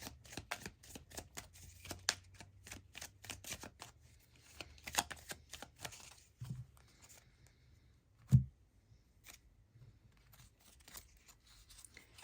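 Tarot cards from a gothic deck are shuffled and drawn, with a rapid run of soft riffling clicks that thins to sparse card taps and one sharp knock, all quiet and close, with no talking.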